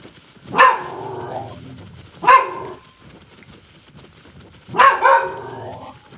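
A baby triceratops in The Isle video game gives three loud barking calls, well spaced, the last one doubled, with quiet gaps between them.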